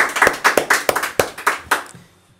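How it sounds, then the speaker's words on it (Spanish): A few people clapping for a guest, around ten sharp, close claps in a quick uneven rhythm that stop abruptly, leaving near silence. "un aplauso para vos"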